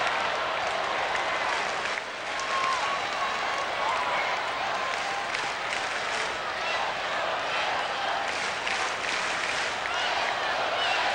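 A big baseball crowd at a Tigers versus Red Sox game claps and cheers in a steady, continuous roar of distant applause, with a broadcaster talking over it.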